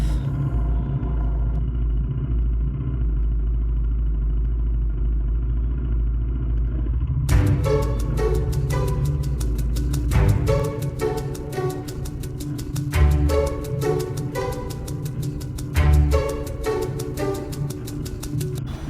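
KTM Duke 390 Gen 3 motorcycle riding through hot, heavy city traffic in Chennai, a steady low engine rumble, with a brighter rhythmic layer joining partway through.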